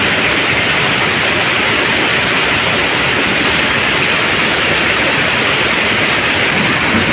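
Water rushes steadily through a roadside drainage canal after a full day and night of heavy rain, a loud, continuous broadband roar with no pauses and no voices.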